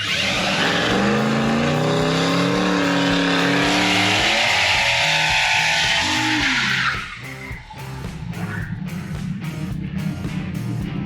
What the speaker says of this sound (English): can hear the cutout open up that time.